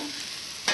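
Okra and egg frying with turmeric in a pan give a steady, close sizzle with a soft stirring scrape, swelling into a louder hiss near the end.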